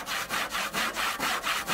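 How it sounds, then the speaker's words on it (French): A hand saw cuts through wood in quick, even back-and-forth strokes, about seven rasping passes in under two seconds, close and loud with nothing else heard. "je mettrais pas mes doigts aussi près de la scie"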